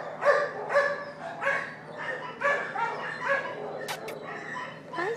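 A little black dog with a large hernia barks and yips repeatedly at close range in quick, excited bursts, with some whimpering mixed in and a brief high squeak partway through.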